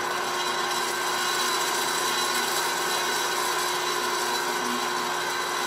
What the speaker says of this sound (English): I'm going to touch it up with a little 120 grit